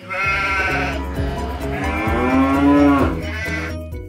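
Cows and sheep call out together: long, loud harmonic moos overlap with bleats in several drawn-out calls over a few seconds, close by and with no talking.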